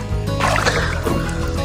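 Water sloshing and splashing as people bathe in a swimming pool during a Sajek Valley trip, a steady wet churn with gurgles close by, and a faint tonal background running underneath.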